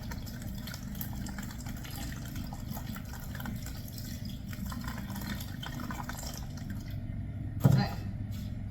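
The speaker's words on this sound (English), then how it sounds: "I'm going to now add water into this container" Water is poured into a plastic tote for mixing with colorant for cement planters, a faint steady trickling fill under low background noise, ending with a brief knock near the end.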